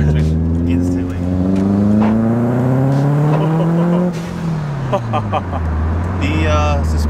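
A full bolt-on Subaru WRX tuned on E85 fuel accelerates hard, its engine note climbing loudly through a gear before dropping at the shift and pulling again, with people talking over it.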